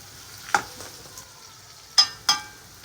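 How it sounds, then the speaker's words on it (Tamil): Chopped onions fry in a pan with turmeric as a spoon stirs them, giving a soft, low sizzle broken by a few sharp scraping clicks of the utensil against the pan, close and quiet with no talking. "இப்போ பார்த்தீங்கன்னா வெங்காயம் நல்லா வதங்கிடுச்சு. மஞ்சத்தூள் ஆட் பண்ணுறோம்."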